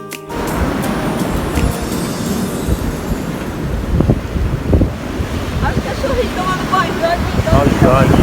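Strong, steady wind buffets the microphone on Praia do Francês beach, with surf rolling beneath it and people talking intermittently over the roar.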